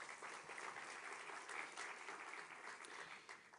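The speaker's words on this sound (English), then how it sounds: "Et je vous propose qu'on les applaudisse aussi" Audience applause at an international conference on the Middle East, a steady, even wash of many hands clapping at moderate distance, continuing without a break.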